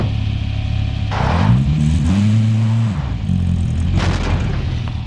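A vehicle driven in Call of Duty Warzone: a steady engine drone rises and shifts pitch as it revs and accelerates, with occasional rumbling thuds and no talk over it.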